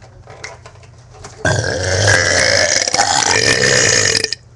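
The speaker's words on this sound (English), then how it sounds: "Multi-burp." A loud, drawn-out burp rolls on for about three seconds, close and dry, breaking into several rough pulses as it goes.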